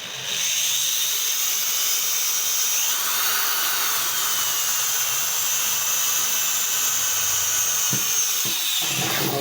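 A drill press cuts circles into plastic, a loud, steady high-pitched whine that runs continuously for the whole stretch with only slight shifts in pitch, with no talking.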